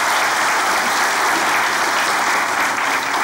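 A studio audience at a Turkish comedy show applauds in a loud, dense, continuous wash of clapping that holds steady throughout, with no one talking over it.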